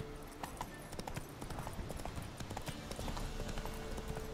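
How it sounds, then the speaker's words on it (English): A horse's hooves clip-clop at a fast gallop in the Witcher 3 video game, a steady, continuous drumming of hoofbeats over a low, rumbling game backdrop. "Run, Roach"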